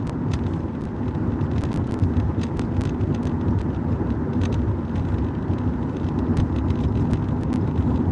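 Steady car road noise while driving through a city, a continuous broadband rumble with faint wind hiss and no speech.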